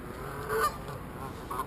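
A couple of short goose honks sound at moderate distance, separated by a brief pause, over faint outdoor background noise.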